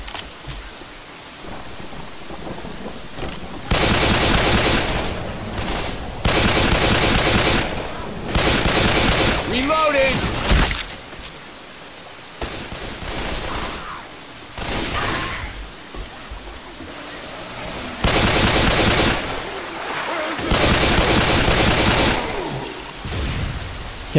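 Gunfire in the Left 4 Dead 2 zombie game during a rainy level, loud repeated bursts of shots in clusters, alternating with quieter stretches of ambient rain and thunder-like rumble.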